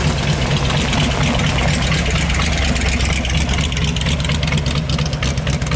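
A hot-rodded 1934 Ford three-window coupe idles at a street parade, a steady, loud, close engine rumble that holds evenly throughout with no voices.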